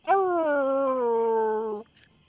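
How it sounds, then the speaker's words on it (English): One of two very small wolves lets out a single drawn-out whimpering howl. The whine is close and clear, sinking slowly in pitch for nearly two seconds before cutting off into quiet. "Again, you hear these sounds of the two very small wolves."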